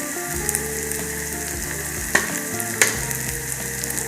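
Homemade black masala with turmeric, chili and coriander powders frying in oil for a village-style fish fry, a steady close sizzle broken by a few sharp clinks and scrapes of stirring, with no talking.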